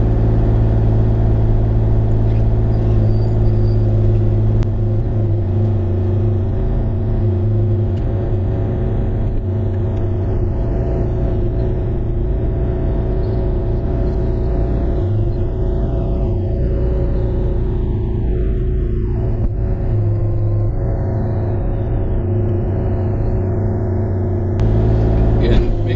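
A Bobcat E35 mini excavator drives along, its engine a steady, loud low rumble that holds constant throughout with little variation.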